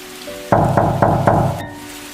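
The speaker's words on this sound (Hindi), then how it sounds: "तभी फिर से खटखटाहट हुई" Four loud, evenly spaced knocks on a door, close and sharp, on a rainy night, with faint rain hiss underneath and no voices.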